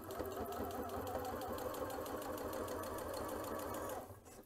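A Janome C30 sewing machine stitches the ends of a fabric pouch with a steady, close, fast mechanical whir and rapid needle clatter, then slows and stops near the end.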